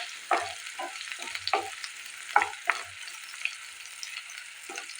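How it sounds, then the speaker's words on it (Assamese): Ground ginger and chopped onion with green chillies fry in oil while being stirred, crackling sizzle punctuated by repeated scraping strokes of a spatula against the pan, close and fairly quiet, no voices. "এই আদাখিনিও পিঁয়াজৰ সৈতে ভালদৰে ভাজি লোৱা হৈ গ'ল"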